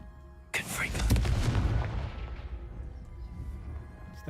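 A Confringo fire spell goes off in Hogwarts Legacy with a sudden, loud booming blast, followed by a rumbling, crackling tail that slowly dies away.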